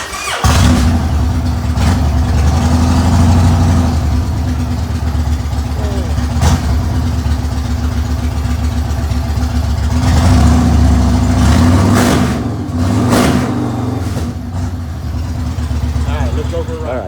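Yamaha Raider motorcycle with a newly installed fuel pump: the engine idles steadily and close, then rises in a few revs before settling back, with a voice talking over it at times.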